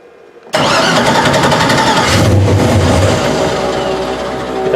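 A car engine cranks and catches after an oil leak, then runs loud and steady close by, its note shifting slightly as it settles toward an idle.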